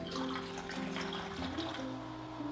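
Kangen alkaline water, the 9.5 living water, is poured into several containers in a steady, continuous splashing stream, fairly close and moderately loud, with no talking.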